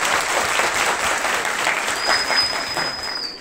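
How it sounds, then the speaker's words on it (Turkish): A crowd applauds the groom at a wedding ceremony with dense, steady clapping that carries on throughout, loud and close, with a thin high electronic tone joining in the second half. "Damat Bey'e de alkışlarla teşekkür ediyoruz."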